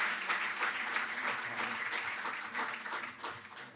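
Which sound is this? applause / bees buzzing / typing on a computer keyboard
applause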